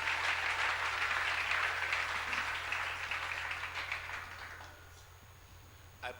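A church congregation breaks into applause, a dense burst of clapping that starts loud and gradually thins and fades over several seconds, leaving a low hum behind.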